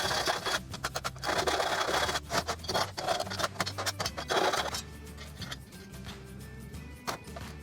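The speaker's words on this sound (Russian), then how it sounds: "Заусенцы сглаживаю шлифовальным кругом, а внутренние при помощи напильника." A hand file rasps at burrs inside 10 mm bolt holes drilled through metal, a rough scraping in quick bursts of strokes, loud at first and then fading to lighter, scattered scrapes.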